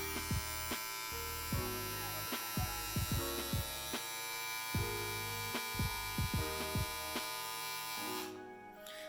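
Philips BT9000 Prestige electric shaver switched on and running, a steady close buzzing hum with a throbbing motor drone and scattered clicks and small knocks, no voices, cutting off near the end.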